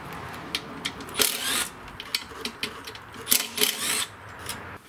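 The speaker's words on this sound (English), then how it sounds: "I'm using my impact today." A cordless impact driver with a 3/8 socket removes the cover bolts on a lawnmower, giving several short bursts of rapid hammering clatter separated by brief pauses, close and fairly loud.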